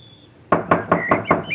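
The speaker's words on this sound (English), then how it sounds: "Shall we knock at the door and see who's in?" Five firm knocks on a door in an even, quick rhythm, close and distinct, following a moment of near quiet.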